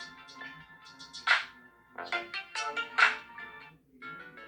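Dreamscape, a Samsung Galaxy ringtone, plays as a bright melodic sequence of chiming electronic notes with sparkling accents, rising and falling in a flowing rhythm, clear and close with no talking.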